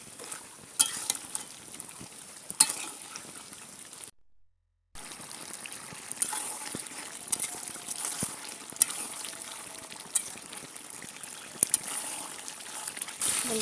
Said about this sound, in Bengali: গোশটা ভালো করে কষিয়ে নেব।